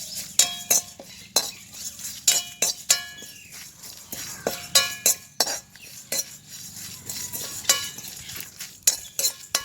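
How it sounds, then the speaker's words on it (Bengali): Olives and spices dry-roasted in a pan without oil, with repeated sharp metallic clinks and scrapes of a utensil stirring against the pan in irregular bursts, close and clear, over a faint low background hum. "এটা একদম তেল ছাড়া ভাজি করতে হবে।"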